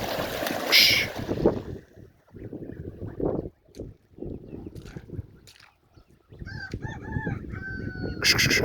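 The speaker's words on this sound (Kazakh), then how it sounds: "Мына қаздар енді." Honking geese calls ring out in short bursts near the end, in Zaysan, Kazakhstan, after stretches of low rumbling and a brief high squawk early on.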